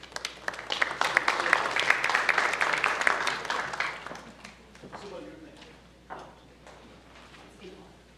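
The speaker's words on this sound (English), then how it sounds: "Please give them a big round of applause." Audience at a scholarship awards ceremony claps for the student recipients, a dense burst of hand claps that peaks early and then thins out to scattered claps, with some talk in the room.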